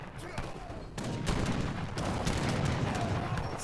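Infantry gunfire in a real-time strategy battle in Age of Empires III, with dense overlapping volleys of crackling shots and rumbling blasts that continue loudly throughout, with a voice talking over them.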